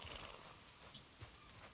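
A horse whinnies in Valheim, a brief, rough neigh set against a noisy backdrop, with faint hoof clip-clops and no speech.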